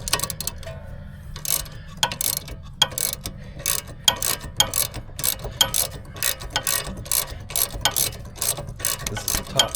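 A ratchet wrench turning the 18mm bolt on the rear caliper bracket of a 2018 Chevrolet Malibu, a close series of rapid clicking pawl bursts in short irregular strokes over a low background hum, with no talking.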